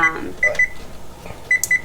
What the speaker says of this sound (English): Sorry, we have different timers on our oven.